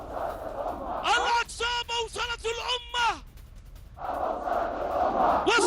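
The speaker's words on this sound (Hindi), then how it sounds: "भीड़ ने इजराइल के खिलाफ लगाए नारे" A large street crowd at a pro-Palestinian protest in Sanaa, Yemen chants slogans against Israel in loud, rhythmic bursts of massed voices, a roaring murmur filling the gaps before the chanting swells again near the end.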